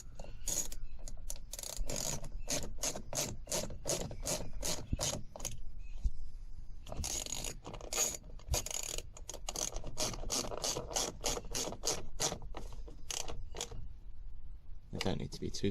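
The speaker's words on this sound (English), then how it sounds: "and then screw in your 2 bolts." A ratchet driving two bolts into a Smart car's outer door panel, heard as quick bursts of sharp clicking that stop and start in a steady rhythm, close and fairly quiet.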